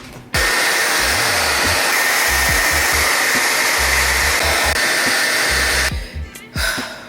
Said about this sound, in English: First, I need to blow dry my hair.